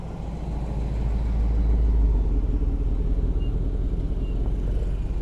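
Ford Mustang arriving at a Torque Moto Cafe car meet, a steady deep engine rumble that swells slightly and holds at a close, constant level with no talk.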